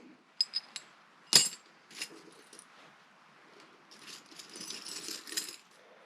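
Light metallic clinks and taps of aluminum pieces, a few sharp ones early followed by softer scattered rattling and scraping of metal pieces, close by.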